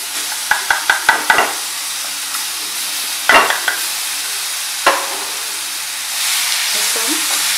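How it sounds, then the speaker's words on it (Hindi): Ginger, garlic and onion paste drops into hot oil for a poppy-seed chutney, setting off a sharp crackle and a series of quick clinks and knocks, then a steady close sizzle that swells toward the end. "अब हम इसमें अदरक, ये लहसुन प्याज डालेंगे जो हमने पेस्ट बना लिया था।"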